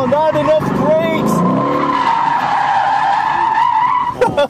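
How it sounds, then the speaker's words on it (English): CBR250R motorcycle tires squeal and skid loudly and close during a spin-out, a sustained screech lasting several seconds with a faint voice underneath. "you guys just saw me spin out like a madman."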